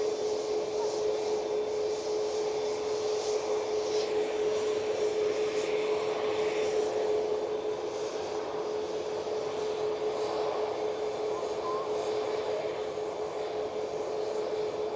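Jet aircraft at Manchester Airport, a Juneyao airliner taxiing and a Ryanair jet lined up for departure, produce a steady, distant engine drone and whine with a constant tone throughout, fairly loud and unbroken.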